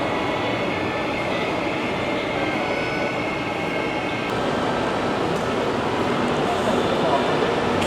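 A passenger train bound for Busan, Korea, rumbles steadily while boarding and riding, a constant loud roar with faint voices mixed in.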